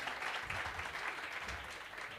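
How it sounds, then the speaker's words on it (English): A workshop audience gives a round of applause for a guest, brisk dense clapping throughout the short moment with no pause. "let's give him a round of applause"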